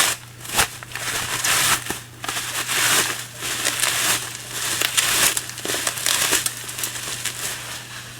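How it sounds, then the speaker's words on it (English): Keyboard parts, including small screws, a backlight membrane and the keyboard itself, being unwrapped from crinkly plastic packaging, producing close, continuous crackling and crumpling with sharp rustles throughout. "And get it unwrapped"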